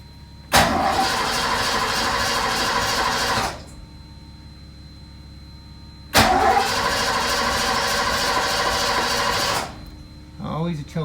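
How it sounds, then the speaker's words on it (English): A Mercedes engine, sitting cold in a shop, cranks and catches twice in a row, roaring for about three seconds each time before cutting out. The shop is quiet between the attempts. "So we got to cold start the beastly,"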